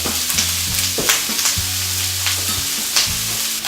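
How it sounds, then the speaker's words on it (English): Diced onion and carrot stir-fry in a hot pan with steady, close sizzling, tossed occasionally so the vegetables brown, with soft scraping and shuffling stirs breaking through the constant hiss. "I'll toss this occasionally, and my goal is to get a little bit of browning happening on the onion and the carrot."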